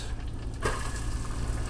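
Chopped onions sizzle in melted butter and olive oil in a pan, giving a steady, moderately loud frying hiss with one brief louder crackle partway through.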